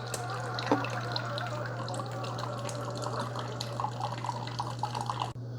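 Three Keurig K-Slim single serve coffee makers brewing side by side, a steady low hum under continuous trickling and dripping of hot water, fairly quiet and close, with no talk.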